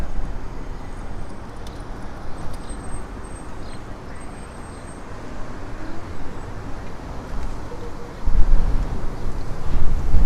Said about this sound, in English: it's really windy, so you're not really going to hear much.